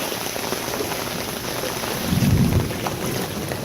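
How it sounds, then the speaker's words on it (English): Heavy rain from a Florida summer thunderstorm pours steadily in a loud, dense hiss, with a deep roll of thunder swelling briefly near the middle and fading again. "The rain's dying down."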